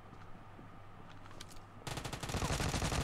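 Vector submachine gun fire in the mobile game BGMI's gun game mode: after a quiet, faint stretch, a rapid burst of automatic shots erupts loud and continuous for the last second or so, with no talking.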